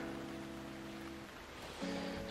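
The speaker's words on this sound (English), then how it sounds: "It's been raining all weekend." Steady rain falling during a wet weekend in Miami, a soft continuous hiss with low background hum, heard faintly and alone without voices.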